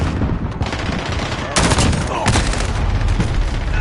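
Gunfire in Call of Duty, dense bursts of rapid automatic shots with sharper single cracks, loud and continuous throughout, game audio with no clear talk over it.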